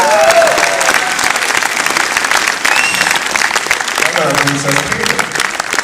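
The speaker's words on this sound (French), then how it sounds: "J'aimerais qu'on applaudisse." Loud, vigorous applause from a television studio audience at a film promotion, dense and continuous clapping with cheers, while voices talk over it.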